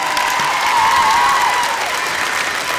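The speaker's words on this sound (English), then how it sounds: "That deserves a round of applause right there" Sustained applause fills the hall at a spring commencement ceremony for a school of education, health and human services, a dense steady clapping from a large audience that swells slightly and then fades a little.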